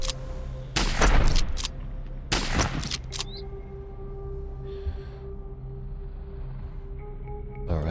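Combat units in the video game Heart of the Machine fire off two clustered bursts of rapid gunfire, followed by a quieter stretch of steady electronic hum.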